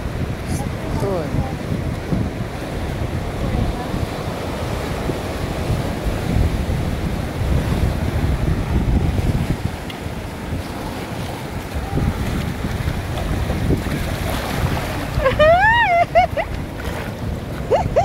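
Ocean waves wash and surge continuously in Dana Harbor, a broad steady roar mixed with wind buffeting the microphone, with a few brief chirps near the end.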